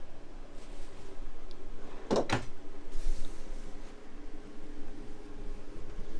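A drawer slides along full-length metal guides in a 2016 Jayco White Hawk 33RSKS travel trailer, giving a brief pair of close rolling clunks at about two seconds against a steady quiet background.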